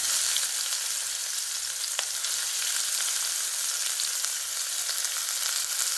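Finely chopped onion hits a little hot oil in a heated kadai, giving a steady, close, bright sizzle with faint crackles throughout and no talking.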